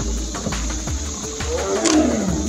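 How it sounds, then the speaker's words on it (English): Big cat roaring, a deep rumbling roar with pulsing low growls, loud and close, alone without talk. "or what you could call a roar."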